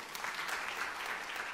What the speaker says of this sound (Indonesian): Kau ada tepuk tangan saudaraku.